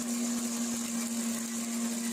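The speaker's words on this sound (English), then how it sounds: "We're going to run this through a chopper in order to create a finer straw." A straw chopper runs steadily, cutting straw into finer pieces for earthen plaster at an off-grid straw bale house build, giving a continuous mechanical whir with a strong sustained hum throughout.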